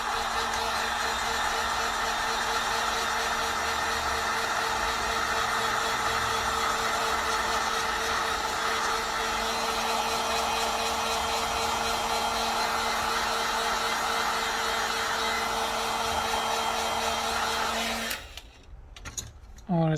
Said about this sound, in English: So I'm just gonna use the heat gun.